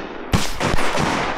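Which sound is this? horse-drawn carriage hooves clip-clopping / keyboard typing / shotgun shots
shotgun shots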